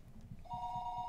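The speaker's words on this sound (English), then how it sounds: "then dialed a short phone number, the kind unique to remote places" A telephone line rings after a short number is dialed to a remote place: one steady electronic ring tone starts partway through and holds over a low background rumble.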